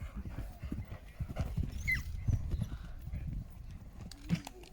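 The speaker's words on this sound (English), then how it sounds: "this is Tim Price, riding Wingwood Skyboy, I believe" A horse gallops across a cross-country course at a five-star international horse trials event, hoofbeats thudding in a rapid, uneven rhythm at moderate distance. A commentator talks over it.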